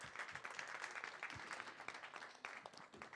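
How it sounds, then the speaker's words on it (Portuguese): Applause from a seated audience at a talk in a cultural center, a dense, steady wash of many hands clapping heard from a distance at low level. "Palmas, por favor."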